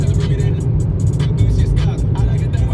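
A 2016 Volkswagen Polo Highline with a 1.2 litre four-cylinder engine and seven-speed DSG hums along at a steady cruise, engine and road noise close and even, with someone talking over it.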